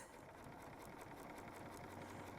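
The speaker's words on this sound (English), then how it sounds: "So I'm just going to start stitching on the side." A Bernina sewing machine fitted with the #71 flat felled foot runs steadily, stitching binding onto a quilt with a continuous fast needle rhythm and motor hum, close and alone.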